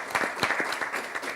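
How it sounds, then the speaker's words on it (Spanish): Brief burst of audience applause at a panel discussion for a theatre school professor, a short patter of claps at moderate level with no talk. "Un aplauso para él."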